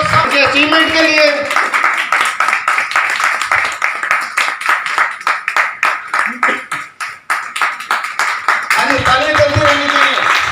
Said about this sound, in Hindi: तालियां चलती रहनी चाहिए।